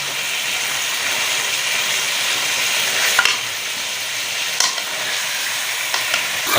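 Chicken fries in a pan with ginger garlic paste, a steady loud sizzle with a few scraping stirs of a utensil breaking through.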